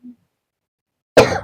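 A single sharp cough bursts out loudly after near silence, preceded by a faint brief throat sound, with no talk.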